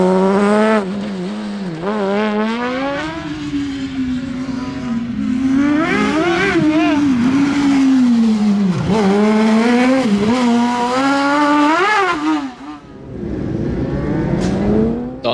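Class 15 racing buggy with a 1000cc engine at Shackleton circuit, screaming up and down through the gears on a wet track, loud and close, with tire squeal and a brief lift off the throttle near the end.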